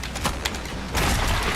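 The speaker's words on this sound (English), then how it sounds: "the explosion." An explosion in the shooter video game Doom Eternal: sharp bursts and rattling impacts, then a heavy loud blast that swells and holds near the end.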